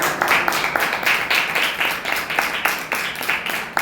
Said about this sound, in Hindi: ताली बजा के उसके नाम की।